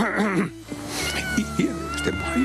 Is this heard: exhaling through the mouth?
no